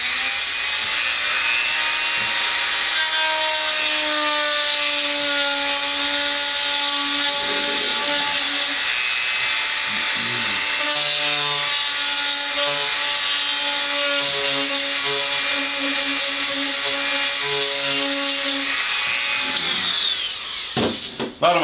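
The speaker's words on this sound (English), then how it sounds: "Using my Dremel tool, we'll go ahead and cascade these eyes out." A Dremel rotary tool whines steadily at high speed while carving out the eyes on a taxidermy mount, loud and close, with brief dips in pitch as it bites, then it winds down at the end.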